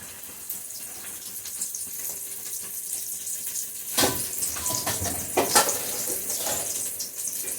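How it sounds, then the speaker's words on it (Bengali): Vegetarian stuffing for kakrol fries in hot oil, giving a moderate, continuous sizzle with sharper bursts and clatter as it is stirred about midway. "তেল আমার গরম হয়ে গেছে। এই পর্যায়ে পুরগুলি ভেজে নিচ্ছি।"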